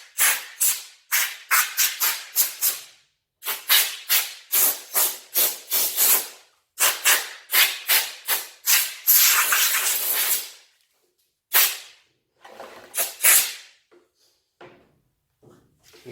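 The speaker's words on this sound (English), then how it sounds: "get the air compressor, clean the dust away so you can see what you're doing" Air compressor nozzle blowing dust off a carved olive bonsai, loud close bursts of hissing air in quick repeated pulses, one longer sustained blast, then sparser puffs trailing off.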